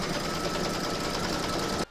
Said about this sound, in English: Pop your hoop into your machine and stitch round number 3.